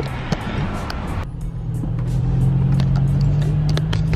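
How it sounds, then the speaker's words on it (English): Cars crawl through Los Angeles traffic, heard from inside a vehicle as a close, low engine and road drone that swells slightly and holds steady, with faint ticks and rustles. "we're stuck in traffic for like, I don't know how long now, probably like 10 minutes"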